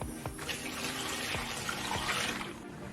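Cold water running steadily from a kitchen tap as it fills a container, a continuous broadband splashing rush with a few brief low knocks, heard alone without talk.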